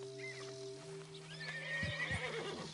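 A horse in the Red Dead Redemption 2 video game gives a fairly quiet, wavering whinny over a soft ambient drone, with a couple of low snorts or hoof thuds.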